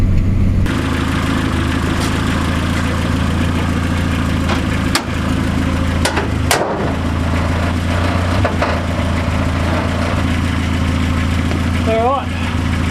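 Truck engine after an engine swap, running steadily at idle with a deep, constant low rumble throughout, joined by occasional clanks and knocks nearby.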